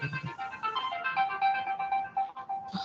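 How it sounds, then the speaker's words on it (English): A mobile phone ringtone plays a short, bright repeating melody for a few seconds during an online tutorial session, fairly clear and uninterrupted by talk. "someone's mobile is ringing"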